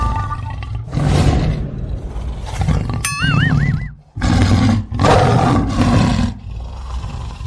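A tiger roars repeatedly and loudly in a comedy skit, several long, rough bursts close up with short pauses between them and a brief synthetic warbling tone in the middle.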